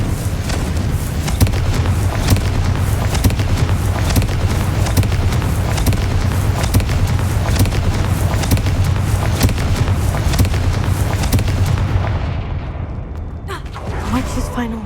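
A Confringo fire spell blasts in Hogwarts Legacy, a loud, sustained rumbling boom roar with crackling bursts that holds steady for about twelve seconds, then cuts off, leaving quieter game sounds.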